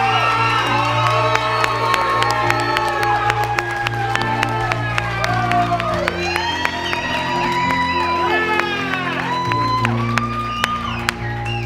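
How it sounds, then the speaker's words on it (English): A crowd at a charity event cheers, whoops and shouts enthusiastically, with scattered claps throughout a loud, continuous roar of many excited voices. "Show us your enthusiasm by cheering as she presents each one."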